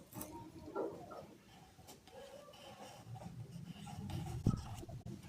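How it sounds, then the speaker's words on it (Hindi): Pen writing the name Saeed in Urdu script by hand, a soft close scratching and rubbing on paper with a few faint taps, quiet and alone without talk. "नाम हम लिखते हैं उर्दू में।"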